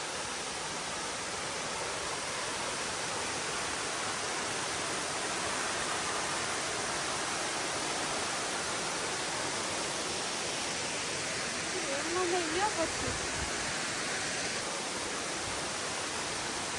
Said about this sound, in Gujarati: તો ટ્વિન ફોલ્સમાંથી પાણી પડીને અહીંયા આવે છે